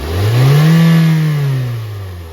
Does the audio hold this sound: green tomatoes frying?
no